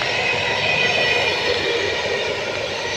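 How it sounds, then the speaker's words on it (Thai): A loud, steady rumble with broad hiss and a high whine as a train rolls past close by in Norway, continuous throughout with no talking. "รถไฟมากพอดี"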